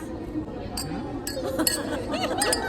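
Glasses clink in a celebratory toast at a Filipino Independence Day gathering in Sri Lanka, several bright, close chimes ringing out over lively crowd chatter and voices.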